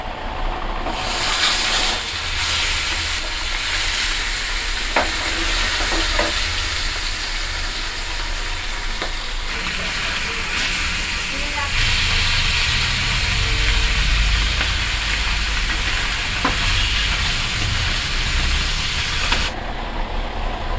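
Salted fish, rubbed with salt and turmeric, frying piece by piece in hot oil for a Bengali fish curry. A steady, loud sizzle with hissing steam runs throughout, with a few faint clinks along the way and no talking.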